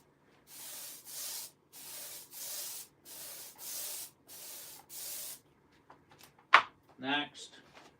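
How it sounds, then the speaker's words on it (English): Glue being spread by hand across a sanded MDF panel before laying oak veneer, a series of about seven steady rasping rubbing strokes in a regular rhythm, close and moderately loud, followed by a few brief knocks and scrapes. "how hard it is to spread this glue once you've sanded the MDF"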